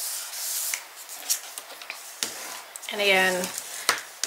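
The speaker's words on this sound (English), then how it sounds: "burnish, burnish, burnish. Make sure that's really well stuck." Paper pieces on a pop-up mini album page being burnished down by hand, a soft dry rubbing and scraping that comes in short strokes under a speaking voice.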